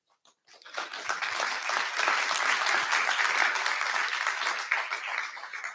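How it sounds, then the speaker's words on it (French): An audience at a presentation event breaks into applause after a short silence, a full, dense wash of many clapping hands that rises quickly and holds steady at a fairly loud level. "il faut applaudir aussi ces victoires-là"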